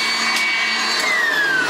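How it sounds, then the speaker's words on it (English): A Sanitaire commercial vacuum cleaner runs with a steady, loud motor whine throughout, its high-pitched tone dipping slightly near the end. "My killer German Shepherd against a sanitaire commercial vacuum cleaner."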